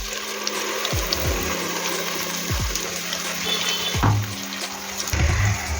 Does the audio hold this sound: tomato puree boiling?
yes